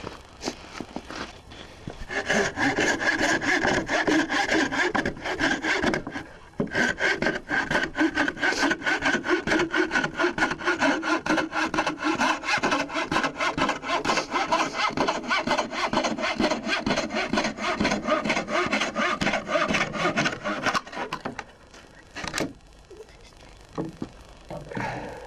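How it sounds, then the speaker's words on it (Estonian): Steady back-and-forth rasping of a hand saw cutting angled lines in wood for a birdhouse, continuous rhythmic strokes close up, pausing briefly once and slowing near the end. "Ja alustan"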